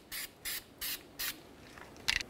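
Copper anti-seize aerosol sprayed onto a cleaned front brake hub of a Ford Ranger, four short hissing bursts in a steady rhythm, followed by a brief faint rattling spurt, close and alone.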